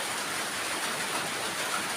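Heavy rain falls in Korat, a dense, steady hiss of water pouring down without pause, close and even, with no voices.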